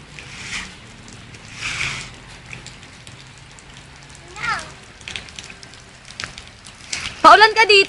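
Rain falls steadily as a faint, even hiss and patter, with a few louder spatters and a burst of voices near the end.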